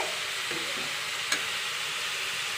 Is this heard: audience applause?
no